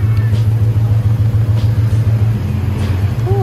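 A loaded Honda Civic that keeps stalling drives along with a steady, loud low engine drone and a rhythmic throb, heard from inside the car.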